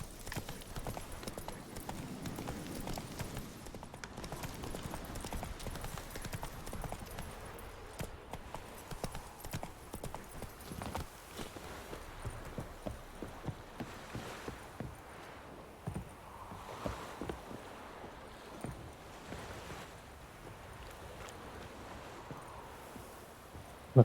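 Steady clip-clop of Roach the horse's hooves in The Witcher 3, a continuous walking or trotting rhythm throughout, fairly close, with faint rustling and occasional voice in the background.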